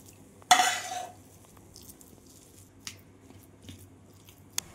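Cooked vegetable curry is scraped from a pan onto a plate: a quick scraping slide of a spoon followed by a few light, sparse clinks in a quiet kitchen.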